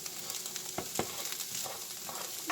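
Hamburger meat frying in a dry pan with no butter makes a steady close sizzle, broken by a few brief scraping stirs.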